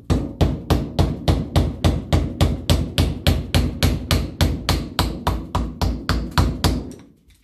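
A hammer taps steadily on the metal injector shroud of a Land Rover Series 3 2.25 diesel engine, about twenty close, sharp, evenly spaced strikes in a regular rhythm with no talk.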